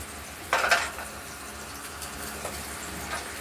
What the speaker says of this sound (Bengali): অমলেট করার পর্বটা চলছে ভাজা হোক